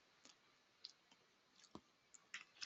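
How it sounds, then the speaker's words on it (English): A computer mouse gives a few faint, sparse clicks in an otherwise quiet room, ending with a slightly louder click. "Let's click in."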